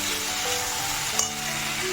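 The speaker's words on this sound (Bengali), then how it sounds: "এখানে ভাজছি আলু" Potatoes frying in a pan in a home kitchen, a steady bright sizzle heard up close, with one small clink partway through.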